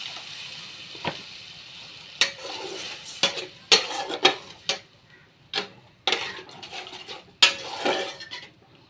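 A spatula stirs tomatoes, peas and jaggery in a pan, clacking and scraping against the metal in irregular sharp knocks over a quiet background, with no talking.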